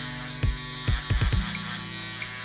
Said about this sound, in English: we're going to take our wall shavers.